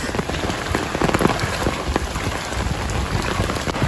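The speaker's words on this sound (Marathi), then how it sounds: "मुंबईतला तुफान पाऊस." Heavy monsoon rain pours steadily in Vasai-Virar near Mumbai amid knee-deep flooding, a dense hiss of drops pattering on hard surfaces throughout, loud and close with no voices.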